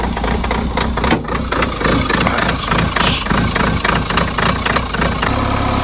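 A cold diesel engine idles roughly with its bonnet open at the high-altitude Umling La pass, knocking in a steady rhythm under a loud, close, continuous rumble.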